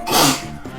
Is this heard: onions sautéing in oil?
no